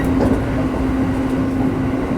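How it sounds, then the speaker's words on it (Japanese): A limited express train running through the long Tanna Tunnel just before Atami, heard from inside the carriage as a loud, steady, enveloping rumble with a constant low electrical hum. "列車は長いトンネルの中を走っています。"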